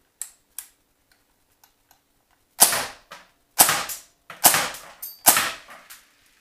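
A WELL MP5K gas blowback airsoft replica fires four sharp, loud semi-automatic shots, spaced roughly a second apart, after a few faint mechanical clicks from handling the gun.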